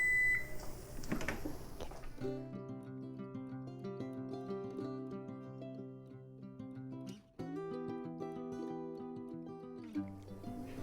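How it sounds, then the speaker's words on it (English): Kitchen timer beeping during pressure canning, a run of steady electronic tones that repeat in sustained bursts with a short break, loud and alone, following a brief clatter at the start. "our timer's going off, so it is time to remove our pressure canner from the heat"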